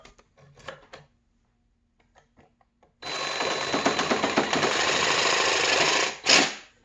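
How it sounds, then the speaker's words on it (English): A reciprocating saw cuts out the remains of an old wooden handle lodged in an axe head, a loud buzzing rattle running about three seconds before stopping, preceded by faint handling clicks. "I think I'm gonna see if I can get some of that out of here with a handy dandy reciprocating saw."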